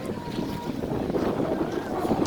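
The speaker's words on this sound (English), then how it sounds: "So it was super windy and it was cold." Strong, cold wind buffets the microphone outdoors in Europe, a steady loud rushing roar with low rumble throughout, no speech.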